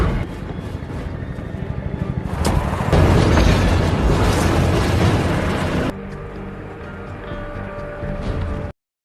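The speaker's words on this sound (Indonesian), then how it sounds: "mobil Dom meledak, mengakibatkan kekacauan" A car explodes in a Fast & Furious film: a building rumble erupts into a loud, sustained roaring blast, then drops abruptly to a quieter burning, debris-filled roar that cuts off near the end.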